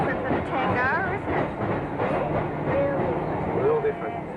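A train speeding by on the far side of an old highway beside a historic Australian tram line, a steady rumbling rush with rhythmic clatter, heard under a voice.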